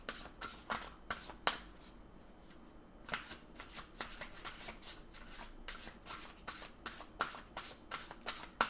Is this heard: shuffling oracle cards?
yes